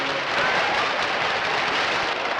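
Large crowd applauding at the 1967 Spanish Copa final football match in a stadium, answering the head of state in the presidential stand; a dense, steady wash of distant clapping that fills the whole stretch at an even level.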